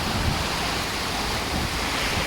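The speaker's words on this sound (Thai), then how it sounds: "ลมพัดแรงมากครับผม" Strong wind roars steadily during a rainstorm, a dense broadband rush with low buffeting gusts, loud and continuous with no voices.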